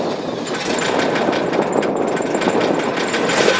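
A Jaguar E-Type's engine idles with a steady, close rumble and a broad hissing wash, holding an even level throughout without any speech.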